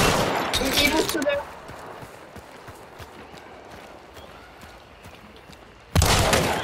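Gunfire in the game Hunt: Showdown, a burst of loud shots at the start and another sharp volley near the end, with quieter scattered cracks and game ambience between; a voice speaks over it.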